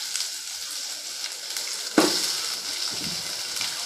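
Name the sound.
onion added to hot oil with mustard seeds and urad dal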